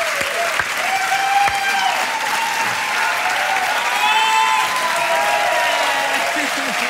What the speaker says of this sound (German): Was für ein wahnsinniger Applaus.